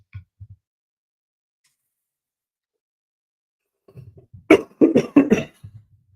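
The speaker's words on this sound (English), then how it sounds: "I can't cut that part about me coughing out" A person coughs during a live stream, with two faint short coughs at first, then after a pause a loud close burst of several harsh coughs that trails off into quieter throat sounds.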